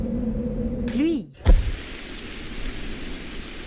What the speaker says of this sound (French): Pluie.